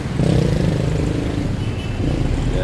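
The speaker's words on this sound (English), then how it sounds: "Yeah, a lot of traffic today." Motorcycles and cars pass close by on a busy street in San Juan, Batangas, a loud continuous engine rumble with a revving motorbike swelling near the start, heard from the roadside.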